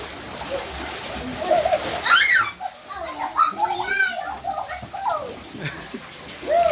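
Water splashes from a plant-watering shower in patchy bursts, mixed with lively, high-pitched children's voices talking and calling over the spray.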